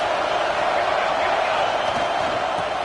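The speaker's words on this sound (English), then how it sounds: "This crowd trying to make life miserable for this offense." Stadium crowd noise in the NCAA 26 college football video game, a dense, steady roar that holds evenly throughout at a fairly loud level, with no distinct cheers or breaks.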